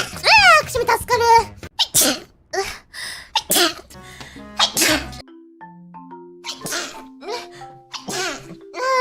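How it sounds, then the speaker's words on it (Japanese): A female VTuber lets out several close, loud sneezes. Bursts of speech-like voicing and a few short sharp sounds are scattered among them, and quieter tonal sounds follow. "くしゃみ助かる。"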